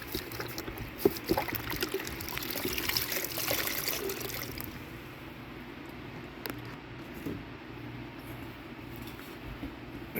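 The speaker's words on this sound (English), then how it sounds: "I'm just going to rinse that off." Water splashes and trickles while chrome motorcycle exhaust pipes are rinsed after cleaning with paste and degreaser, a steady close spray for several seconds that then tapers to quieter drips.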